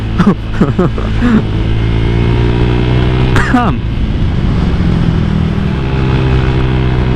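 A motorcycle with a BRT 63mm bore-up engine, no crankshaft changes, revs hard in short bursts then holds a steady loud drone while pushed toward top speed, close to the rider with wind noise throughout.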